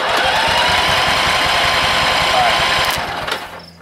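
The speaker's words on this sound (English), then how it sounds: "if the starter is functioning, it will turn this vehicle over" A starter cranking the engine of an abandoned Vietnam-era M274 military Mule, a loud, steady rapid chugging that runs for about three seconds, then fades and stops with a short electrical fizz at the end.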